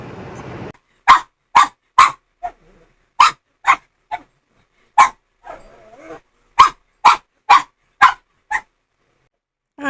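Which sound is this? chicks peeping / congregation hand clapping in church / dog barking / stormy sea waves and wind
dog barking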